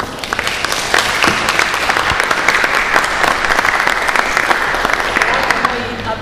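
Warm audience applause at a baroque chamber-music concert, many hands clapping in a dense, lively stream with sharp individual claps standing out, sustained for several seconds.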